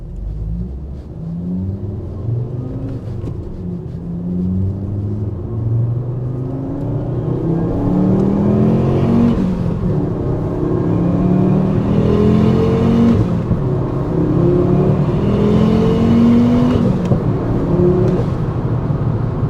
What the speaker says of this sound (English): give her a nice, good rip through the gears and just enjoy these 5-cylinder boost sounds that this car makes